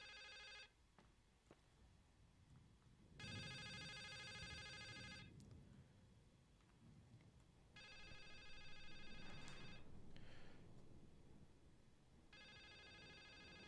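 Ringing telephone in the game The Suicide of Rachel Foster, sounding in two long bursts of repeated electronic bell trills separated by pauses, fairly close over a low ambient hum.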